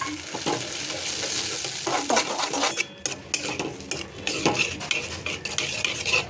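Flour puree being stirred into a gravy in a pan for soya chilli, with repeated spoon-on-metal scrapes and clinks over a soft sizzle, close and continuous with a brief lull midway.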